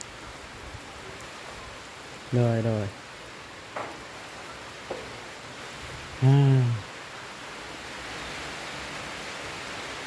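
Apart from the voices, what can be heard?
heavy rain falling on a corrugated metal roof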